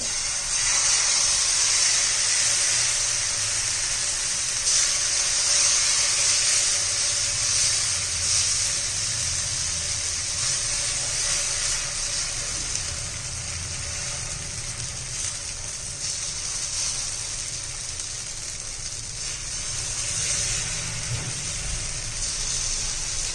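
Wheat flour dosa batter poured onto a hot oiled tawa over high heat, giving a steady, loud hiss and sizzle that holds throughout with no talking.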